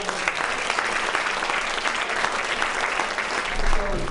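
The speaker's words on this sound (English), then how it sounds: "How about a round of applause for all of" Audience applause for the featured faculty at an evening university foundation showcase, a steady dense wash of many hands clapping throughout, fairly even in level and swelling slightly near the end.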